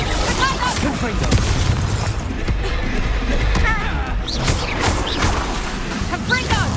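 Confringo explosion spell in Hogwarts Legacy: loud blasts and crackling magical impacts, with repeated boom-like bursts mixed into dense combat noise and voices throughout.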